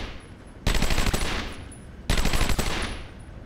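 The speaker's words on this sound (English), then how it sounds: "I'm gonna shoot your legs off!" Gunfire in the video game Batman: Arkham Asylum: two loud, sharp automatic bursts about a second and a half apart, each fading quickly, with no talk over them.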